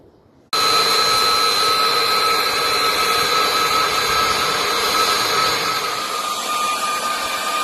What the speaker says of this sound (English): Now it's back into the forge in order to heat treat.